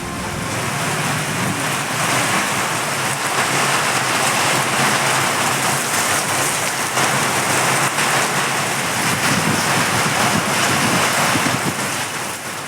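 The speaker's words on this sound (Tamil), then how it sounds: "கனமழை." Heavy rain pouring steadily around Chengalpattu and Tirukoilur, a loud, dense, unbroken hiss of drops hitting surfaces, with no talk.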